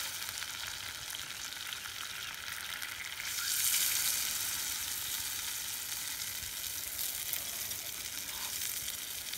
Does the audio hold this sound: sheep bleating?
no